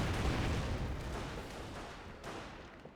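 In Company of Heroes, an AT grenade blast destroys a Stuart tank, a heavy low explosion that booms and rumbles loudly before fading, with a faint pop near the end.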